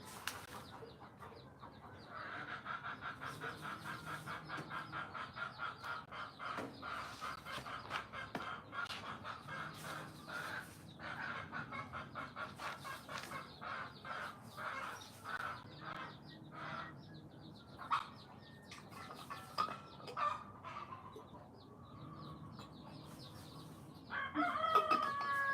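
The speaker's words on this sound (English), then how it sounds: "There's a chicken and some little chicks behind me." A hen clucks and a rooster crows outdoors, with repeated faint bird calls over steady background noise and a louder burst of fowl sound near the end.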